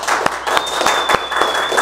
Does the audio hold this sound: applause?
yes